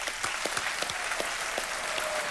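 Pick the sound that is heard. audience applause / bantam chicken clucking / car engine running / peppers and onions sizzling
audience applause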